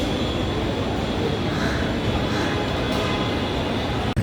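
Mumbai Metro Aqua Line 3 train running underground near Marol Naka, a steady broadband rumble of wheels and motors that fills the whole stretch at even loudness, with no talk.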